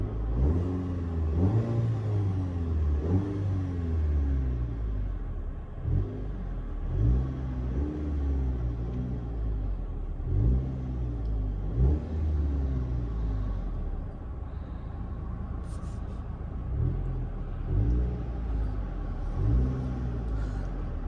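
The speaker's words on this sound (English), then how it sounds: "I'm going to give you guys a rev. Yeah, I'll give you a rev, a nice little rev." The 2-litre petrol engine of a 2023 Maserati Grecale GT revs repeatedly, about a dozen short rising blips over a low idle rumble, close and loud with no talk.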